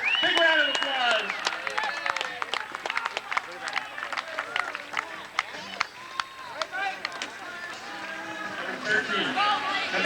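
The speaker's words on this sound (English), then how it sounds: "Give these racers a big round of applause" Spectators clap in scattered bursts for racers at a race event, the sharp claps mixed with crowd noise and heard under a loud announcer's voice.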